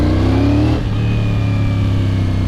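CFMOTO 450CL-C bobber motorcycle engine running close by, a steady loud rev that dips slightly partway through and then holds a lower, even drone.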